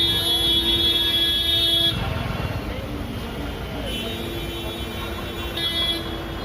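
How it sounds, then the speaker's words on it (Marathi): Busy Mumbai road traffic near the General Post Office: a steady wash of engines with sustained car horns sounding at the start and again near the end, with faint voices underneath. "केवढं ट्रॅफिक आहे बघा इकडं"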